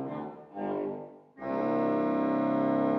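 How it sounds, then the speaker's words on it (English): Reed tone from a T. C. Lewis church organ in Liskeard: a note fades, then a bright 4-foot double trumpet stop borrowed from the swell trumpet enters with a sustained, brassy chord, loud and steady to the end. "And a 4-foot double trumpet taken from the swell trumpet."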